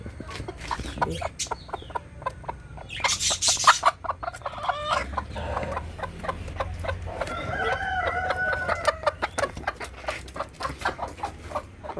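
Hens, one of them broody, cluck repeatedly nearby, and a rooster crows loudly partway through, with scattered squawks and rustling around them.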